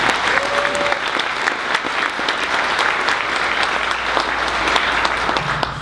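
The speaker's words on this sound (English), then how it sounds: "Give her a hand." Sustained applause from a large indoor audience honoring a Nebo School District leader, loud and even throughout with dense clapping and no break.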